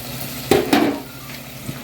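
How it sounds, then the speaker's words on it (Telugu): Onions fry in a pan until brown for an Andhra-style gongura mutton curry, a steady sizzle broken by a couple of short stirring scrapes and a clink. "ఆనియన్ కొంచెం వేగాలి, మరీ రెడ్గా ఏం కాదు, కొంచెం బ్రౌన్ కలర్ వచ్చేదాకా వేయించుకోవాలి."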